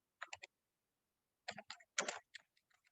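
Quiet keystrokes on a computer keyboard come in short bursts: a quick cluster of three taps, a pause, then a longer run of clicks trailing off into scattered single taps.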